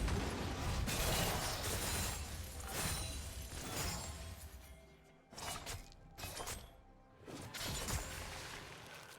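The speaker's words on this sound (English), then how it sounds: "His turrets just got smashed." Turrets are smashed in a League of Legends match, with a run of loud shattering crashes and mechanical clatter, several bursts separated by brief drops in level, with no talk over them.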